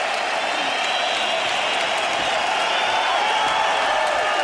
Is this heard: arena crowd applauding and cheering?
yes